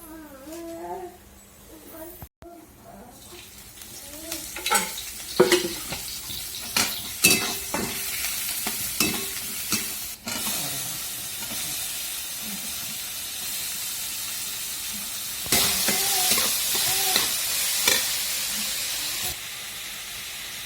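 Onion sautéing in a hot kadai gives a steady sizzle and hiss, broken by repeated scraping and stirring clatter of a utensil against the pan, with a brighter burst of frying later on.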